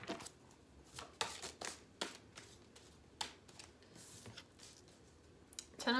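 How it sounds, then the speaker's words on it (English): A large tarot card deck is shuffled by hand: close, crisp riffles and flutters of cards in uneven bursts, with no one speaking. "This deck is very large. So it is hard for me to shuffle sometimes."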